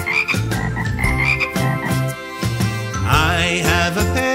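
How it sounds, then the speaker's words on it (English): Cartoon frog croaking within a children's pets song, a series of rhythmic, deep ribbit-like croaks laid over bouncy musical accompaniment, loud and up front. "I have a pet. It's a frog."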